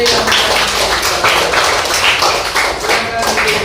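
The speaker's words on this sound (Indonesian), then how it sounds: "Tepuk tangan untuk Derek." Children applaud together in a classroom, a steady burst of dense clapping that continues without a break for a few seconds at close range.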